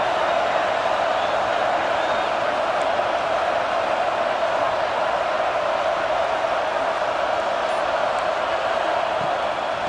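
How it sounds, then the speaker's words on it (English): Stadium home crowd cheering in the college football video game NCAA 26, a steady, loud wash of roaring fans that holds constant with no break. "how nice is it to have the home crowd going absolutely bananas?"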